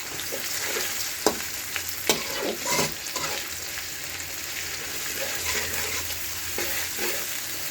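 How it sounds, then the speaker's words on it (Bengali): Ginger-garlic paste frying in hot oil, a steady close sizzle with occasional scraping stir strokes and clinks in the first few seconds. "এই আদা রসুন বাটাটা একটু তেলে ভেজে"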